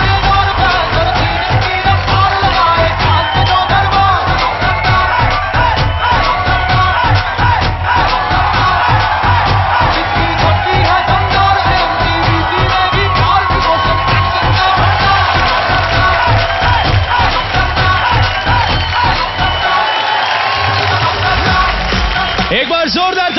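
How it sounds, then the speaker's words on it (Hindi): A large television studio audience applauds and cheers loudly and steadily for Bollywood actress Sonakshi Sinha on a talent show stage, the crowd noise dense and continuous with music underneath, dipping briefly near the end. "जोरदार तालियां सोनाक्षी सिन्हा के लिए।"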